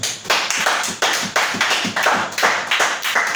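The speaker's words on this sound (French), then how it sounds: "Acclamons pour le Seigneur." Church congregation clapping together in rhythmic acclamation, a dense steady beat of many hands at about two claps per second, loud and close.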